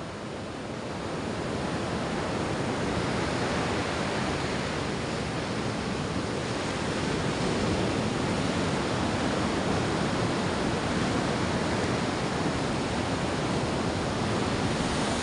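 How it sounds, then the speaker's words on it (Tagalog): Big ocean waves crash onto the shore in a continuous, loud wash of surf, a dense roar that holds steady for the whole stretch with no voices heard. "Laki na ng alon."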